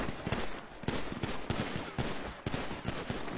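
Rapid bursts of gunfire in the Unity RP game, shots sprayed into bushes, with dense repeated cracks stacking into near-continuous shooting across the whole stretch.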